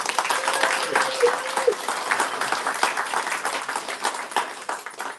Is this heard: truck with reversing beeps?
no